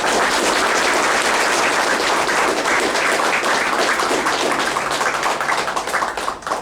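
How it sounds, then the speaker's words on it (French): A ceremony audience gives a long, dense round of applause, many hands clapping steadily and loudly before it starts to thin and fade at the end. "réussi de Mme Isabelle Gachi que je demande d'applaudir."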